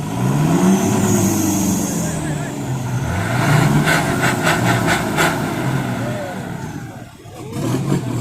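A Fuso truck's engine labors under heavy load while pulling a car sunk to its wheels in mud, a loud sustained drone rising and falling, with voices talking over it throughout.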